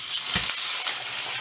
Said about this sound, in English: Now I am going to put some water